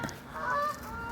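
A bird at a pond gives a short, nasal, goose-like honk, near and moderately loud, with no talking.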